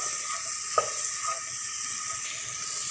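Onions sautéing in a pan with salt, a steady soft sizzle and hiss running throughout with one brief clink of a utensil near the start.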